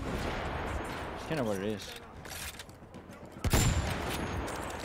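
Battlefield 1 anti-tank sniper rifle shots: a loud close report near the end rises over steady battlefield noise, with someone talking earlier in the clip.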